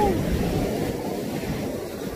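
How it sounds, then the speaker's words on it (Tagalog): Strong ocean waves breaking near a person standing in the surf, a loud, steady rushing wash with some wind buffeting the microphone. "Ang lakas ng alon."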